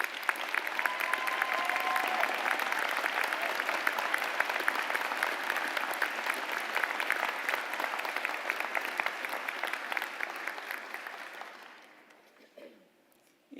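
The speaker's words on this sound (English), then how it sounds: "Each of the Distinguished Student Award winners from the colleges should be applauded for rising to the top of their respective areas" Audience at a spring honors convocation applauding distinguished student award winners, a steady, dense wash of clapping sustained for about eleven seconds before tapering off to quiet.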